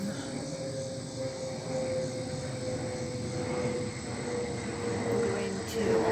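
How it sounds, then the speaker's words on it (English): A distant airplane drones steadily overhead, a low continuous engine hum with faint background chatter and outdoor ambience. "And another airplane."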